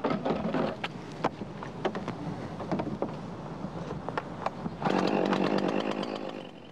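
A chainsaw cuts steadily through the back cut of a tree being felled, running loud and close throughout, its pitch and load shifting as the bar bites deeper and rising sharply near the end.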